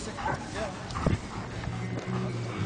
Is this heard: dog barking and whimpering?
yes